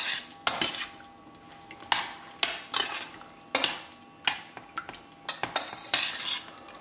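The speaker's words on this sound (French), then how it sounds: "On mélange le tout" Whelks and crème fraîche stirred in a metal pan, a utensil scraping and clinking against the pan in about eight repeated strokes, close and fairly quiet, with no voices.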